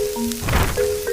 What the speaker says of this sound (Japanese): そして雨の音は 肉を焼いて作り、